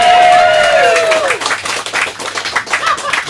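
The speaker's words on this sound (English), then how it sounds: "And so I'd like a round of applause, please." At a live comedy show at a fringe festival, a loud rising-and-falling cheer or whistle opens over a crowd, then gives way to scattered, distinct hand claps from the audience that thin out toward the end.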